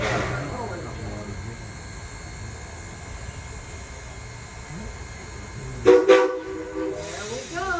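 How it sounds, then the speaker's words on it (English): A conductor's sharp whistle blast sounds near the end over a steady rumble and hiss of a train, with people talking throughout. "So now you gotta turn around when he blows his whistle."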